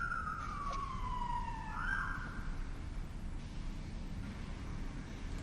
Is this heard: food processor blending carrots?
no